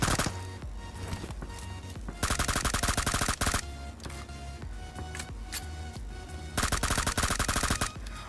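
Automatic gunfire in the mobile battle royale game PUBG Mobile, with several loud, rapid bursts of shots, each a second or two long, heard over ongoing in-game sound and without speech.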